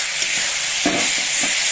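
Spice paste frying in a pan for lentil dal, a close, steady sizzle with a few soft stirring scrapes, no voices.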